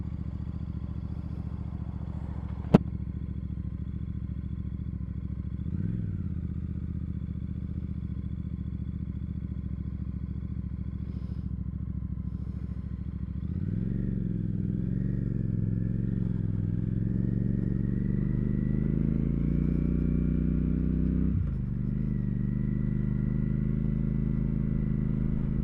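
A Royal Enfield Super Meteor 650, a torquey 47-horsepower cruiser, hums steadily while being ridden, heard through a helmet microphone, with the engine note rising during acceleration about halfway through and again near the end.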